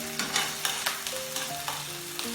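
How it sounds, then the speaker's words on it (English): Onion and ground spices frying in hot oil, a dense continuous sizzle with repeated scraping stirs of a spoon through the pan, close and fairly loud. "We are just going to put it all into the oil and fry."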